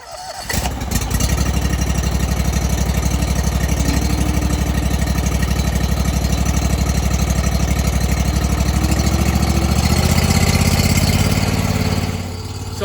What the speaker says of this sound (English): I'm going to let the engine warm up